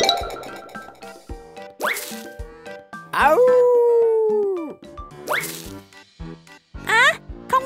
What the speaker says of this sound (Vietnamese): Đây là tiếng kêu của bạn chó con dễ thương.